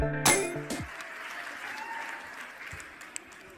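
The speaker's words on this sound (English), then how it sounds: "I'm going to guess that applause was not for me, right?" Audience applause at the 2018 Maine gubernatorial debate in Portland follows a brief burst of louder sound at the start, then settles into a steady, moderate clapping that slowly fades.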